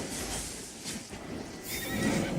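A horse in the Albion Online video game whinnies as it is mounted, with clip-clopping hooves running steadily underneath and the neigh rising clearly near the end.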